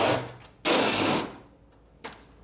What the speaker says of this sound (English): next I'll be removing these 3 bolts here